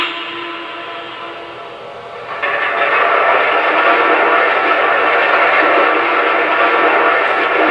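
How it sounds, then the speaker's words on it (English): Coal loading sound effect from an American Flyer Y3 model train, a steady loud rushing hiss that grows fuller partway through and holds, with no voices. "Once I release the reset button on the touchpad, the coal loading sound stops"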